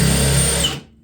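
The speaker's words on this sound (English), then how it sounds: "I'm going to drill a hole" A power drill fitted with a countersink bit whines loudly and steadily as it bores into wood, then spins down and stops near the end.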